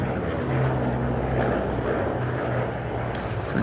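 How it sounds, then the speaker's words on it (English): Bristol Blenheim propeller aircraft flying at an airshow, a steady, loud piston-engine drone with a low hum held throughout the clip. "It's the only flying Bristol Blenheim"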